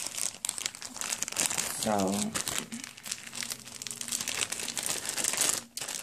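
Small plastic wrapping bags sealed with tape, holding ordered nail products, crinkle and rustle close up in several bursts, under someone speaking.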